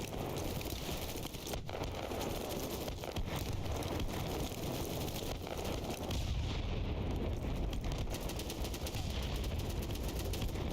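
Dense, continuous gunfire from close-quarters fighting in a first-person shooter video game, steady rattling bursts with no pauses and a heavier rumble partway through.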